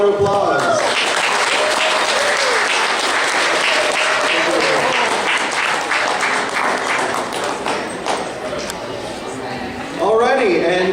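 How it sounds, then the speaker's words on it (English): A crowd at the Kraken Con 2014 costume contest gives a loud, sustained round of applause that fades slightly, and a voice comes in near the end. "Sweet, one more round of applause."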